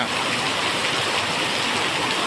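Steady, dense rain pouring down over flooded rice fields, a constant loud hiss of water with no breaks, close and continuous throughout, no voices.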